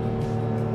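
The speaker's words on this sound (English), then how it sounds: "Downshifts are perfect." Lotus Emira First Edition engine droning steadily in second gear on a mountain road, a continuous close, loud mechanical hum with a slight shift in tone partway through as it downshifts.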